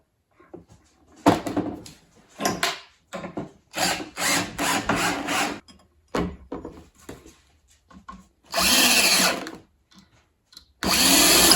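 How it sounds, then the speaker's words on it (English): A motor bracket is fastened to a wooden board in bursts of close, hard work: short scrapes and knocks on wood, then two longer whirring runs of a power driver separated by pauses. "Now we're going to mount the motor bracket to the board."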